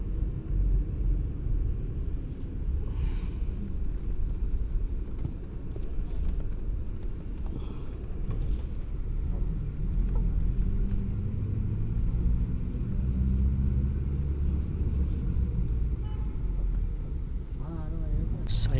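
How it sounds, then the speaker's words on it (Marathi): A Dolphin luxury bus cruising a highway at night past Panvel, heard from inside as a steady low engine and road rumble with continuous broadband noise throughout. "रात्रीचे 12 वाजून 2 मिनटं झालेली आहेत आणि बसचा प्रवास चालू आहे आपला."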